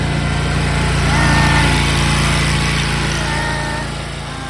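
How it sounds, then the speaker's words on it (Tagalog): A grass cutter engine runs continuously outdoors, a loud steady buzzing drone that swells slightly in the middle and eases a little toward the end. "Mag-grass cutter na sila. Yan siya guys. Grass cutter siya."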